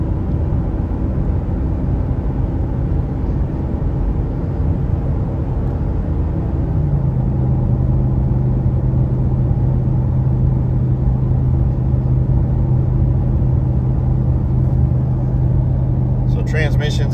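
Vehicle engine cruising in sixth gear on a warm morning drive, a loud, steady low rumble and drone filling the cabin, with a faint higher rattle near the end.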